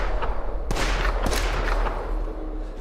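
Gunfire in a video game: a couple of loud sharp shots crack over a low rumbling background, fading into a lingering echo.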